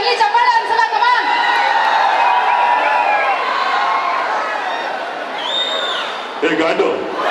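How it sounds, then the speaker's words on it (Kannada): A crowd at the success meet for the Kannada film Max cheers and whoops loudly, with shouting voices and clapping mixed into a dense roar that dips and then rises again near the end. "ಬರಲಿ ಚಪ್ಪಾಳೆ"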